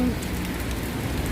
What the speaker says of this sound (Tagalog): pumapatak pa rin yung ulan.